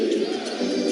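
Madison Square Garden basketball crowd at an NBA playoff game between the Knicks and 76ers, a dense, steady roar of many voices filling the arena, loud and continuous throughout.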